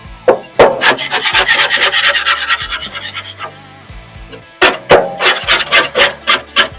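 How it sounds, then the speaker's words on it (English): Scraping grease and pellet dust out of a Pit Boss pellet smoker's firebox, a run of close, rough rasping strokes with a short pause before a second burst of quicker scrapes. "So I'm just going to try to scrape everything in here. Make sure all the grease is off."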